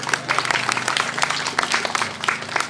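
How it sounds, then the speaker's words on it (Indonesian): Applause from the audience at the inauguration of a mushala in a Banda Aceh rusunawa housing complex, a short burst of scattered clapping with crowd murmur beneath. "Tepuk tangan dulu."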